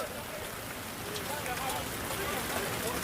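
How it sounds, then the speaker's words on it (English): Steady rain at an outdoor soccer match, a continuous hiss of drops on surfaces with no clear breaks, easing off but still present throughout. "And the rain has actually died down."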